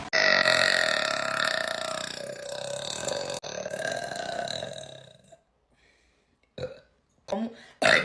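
A woman lets out a long, loud, croaking burp after chugging Coca-Cola, drawn out for several seconds, then gives a few shorter burps after a pause.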